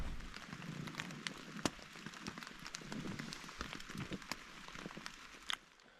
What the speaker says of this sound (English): If you can hear or see, it is still raining.